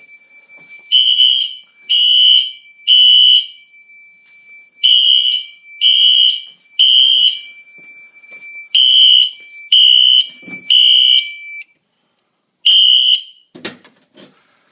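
A fire alarm system tested from a BG10L pull station sounds its horns in loud, synchronized pulsed bursts, groups of three separated by short pauses, ending with a click or two as it is silenced.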